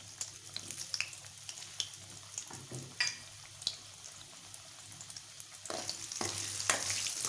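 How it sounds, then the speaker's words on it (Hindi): Potatoes fry in a pan with a moderate, steady sizzle, broken by scattered scraping and clinking stirs that grow busier toward the end. "ये आलू फ्राई कर लेते हैं ताकि सब्ज़ी बिल्कुल क्विक बने"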